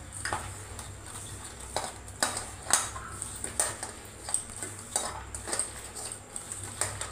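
Drumstick leaves being mixed with chili powder by hand in a bowl, a run of faint, irregular clinks and scrapes against the dish, close and alone.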